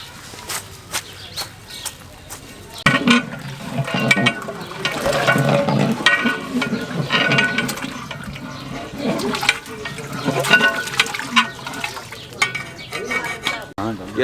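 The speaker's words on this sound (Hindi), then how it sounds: "पानी को बॉयल आना शुरू हो गया, 7 किलो चावल इसमें शामिल करने लगे हैं" Seven kilos of soaked rice tipped into a large pot of boiling water for chicken degi biryani, a steady rushing, bubbling wash with scraping and stirring clatter, rising after a few seconds and continuing loud throughout.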